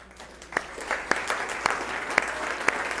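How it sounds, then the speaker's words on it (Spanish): Students in a master class on instructional techniques applaud together, a fairly quiet bed of clapping from a small group, broken by several sharp, close individual claps at an irregular rhythm, with no talk over it. "Ya no los tuve que regañar para que aplaudieran."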